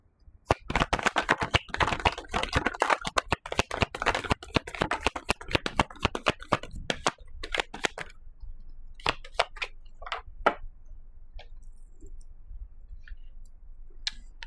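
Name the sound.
tarot cards being shuffled and pulled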